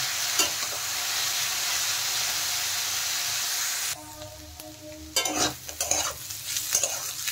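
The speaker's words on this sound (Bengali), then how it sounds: "এখন নেড়ে চেড়ে কিন্তু ভালো করে ভেজে নিতে হবে।" Bottle gourd peel with turmeric, potatoes and whole green chillies stir-fries in a pan with a steady loud sizzle, then quieter frying broken by scraping stirs of a spatula.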